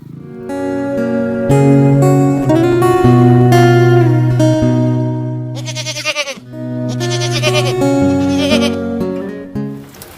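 Goats bleating on a backyard farm on a rainy day, loud close cries with strong harmonics, several long overlapping calls in a row with a short pause midway.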